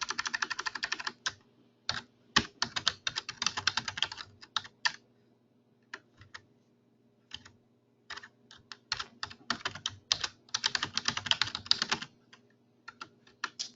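Close, brisk typing on a computer keyboard in bursts of rapid key clicks, with short pauses between runs and no speech.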